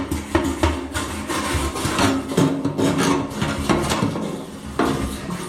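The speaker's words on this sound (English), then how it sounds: "We're just going to scrape the bottom." Rough, rhythmic scraping of a tool against varnish on the bottom of an old car's gas tank, close and loud with repeated strokes and scratchy bursts, no talking.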